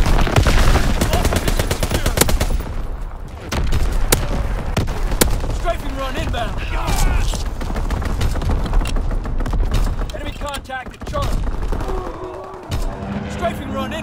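Anti-aircraft batteries in a World War II shooter hammer away in rapid bursts of loud, close gunfire with booming shots, while radio voices call out orders and battlefield updates over the barrage.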